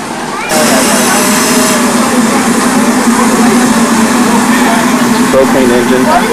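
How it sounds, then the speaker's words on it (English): A propane engine powers a ride-on miniature train at a live steam gathering, giving a steady low mechanical drone with a constant hum, heard up close and continuous across the whole stretch amid general outdoor noise. "Propane engine."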